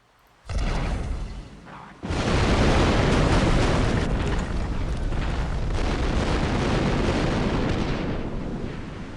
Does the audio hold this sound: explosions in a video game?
yes